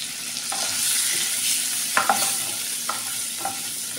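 Eggs sizzle in a tablespoon of oil in a frying pan over low heat, giving a steady loud hiss with a few sharp pops and spatters, and no one speaks.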